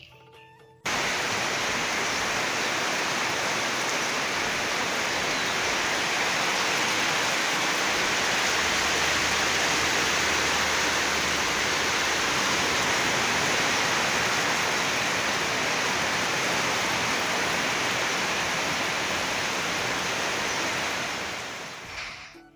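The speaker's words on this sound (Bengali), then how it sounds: "বাইরে কি বৃষ্টি একবার জাস্ট শব্দটা শুনো বৃষ্টির" Heavy rain pours steadily outside, a dense, continuous hiss holding at a constant level for the whole stretch with no voices.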